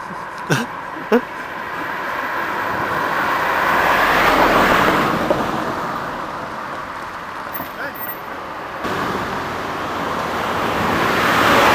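Cars go past on a roadway, their broad rush swelling and fading at moderate distance, with a few sharp knocks early on and people talking in French over the traffic.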